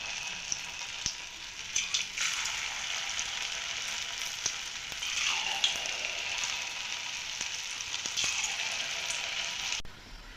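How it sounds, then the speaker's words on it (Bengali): Potato pakoras fry steadily in hot oil over a medium flame, giving a loud, close, continuous sizzle with faint crackles and a few soft taps throughout, and no talking. "আমি আলুর পকোড়াটাকে খুব সুন্দরভাবে ভেজে নেব"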